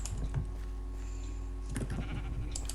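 Sheep bleats in the Minecraft video game, a couple of short nasal calls standing out over steady game background sound, no talking.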